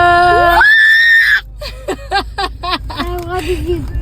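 A child screams in a long, loud, high-pitched burst on arriving at a circus, then breaks into excited squeals and chatter from nearby children.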